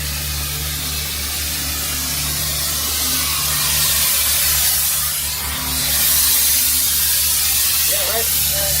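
A cutting torch burns through the bolts on a wrecked truck's frame during a crash recovery, giving a steady, loud roaring hiss that swells over the seconds against a low engine hum.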